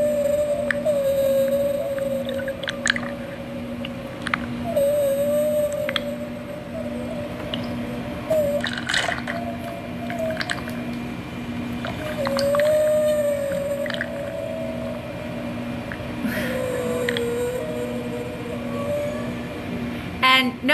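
A recorded seal vocalization plays, long wavering moans and whistling calls rising and falling repeatedly over a low rumbling background, with faint clicks, no speech.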